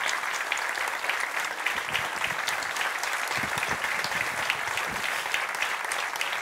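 Steady, moderately distant applause from an audience at a student event, a dense wash of clapping that continues evenly without any speech over it.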